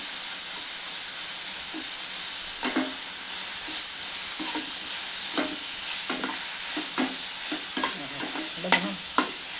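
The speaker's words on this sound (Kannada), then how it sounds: "ಇದ್ರ ಮಧ್ಯೆ ಒಂಚೂರು ಕೊತ್ತಂಬರಿ ಕಾಳು ಹಾಕೊಂತೆ ಫ್ರೈ ಮಾಡ್ಕೊಂತೆ." Coriander seeds frying in a pan for village-style biryani give off a steady close sizzle and hiss, broken by repeated scraping stirs throughout, with no voices.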